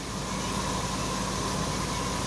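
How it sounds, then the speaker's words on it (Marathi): Steady broadband hum from the air conditioning of a Volkswagen Vento manual-transmission car fitted with a Lovato CNG kit, idling; a constant, even drone with a faint tonal whine, alone with no talk. "गाडीचा AC आपण चालू केलेला आहे"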